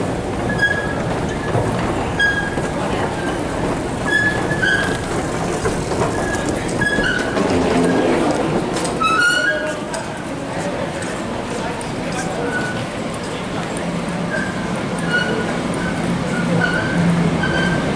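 A New York City subway train rumbles steadily through a station for the whole stretch, with a brief burst of high screeching near the middle, while people talk nearby.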